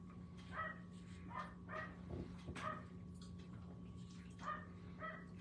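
A dog barks outdoors at a crow, giving repeated yappy barks in irregular bursts at moderate distance over a steady background hum, with a short whimpering note in between.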